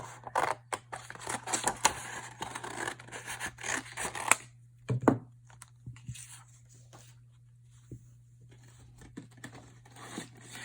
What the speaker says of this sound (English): I'm just going to cut off the excess so it fits better